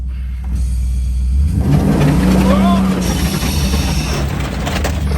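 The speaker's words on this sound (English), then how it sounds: "rev it up" A car engine in a driveway is started and revved: a low steady rumble rises into a climbing revving tone, then settles back to a loud idle, with a voice briefly heard over it.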